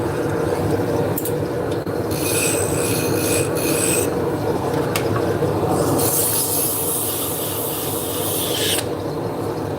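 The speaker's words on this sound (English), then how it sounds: "Now we're going to switch to a spindle gouge" A wood lathe turns steadily while a spindle gouge cuts the spinning workpiece, giving a continuous loud rasping, scraping drone with bursts of hiss as the tool bites, running alone throughout.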